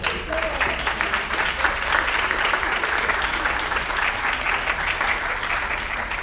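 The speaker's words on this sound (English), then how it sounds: "a round of applause for our candidates" Steady, full applause from an audience at a political forum fills the room for the candidates, an even roar of many hands clapping that holds at constant loudness throughout.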